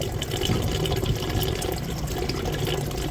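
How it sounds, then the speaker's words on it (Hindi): Water flows steadily through a home-built DIY hydroponic NFT (nutrient film technique) system and drains away, a continuous close, even rushing and trickling wash with no pauses. "ये पानी यहाँ से आ रहा है, यहीं से ड्रेन हो रहा है।"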